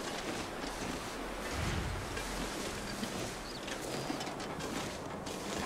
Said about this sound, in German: Ja, Wetter ist ein bisschen windig.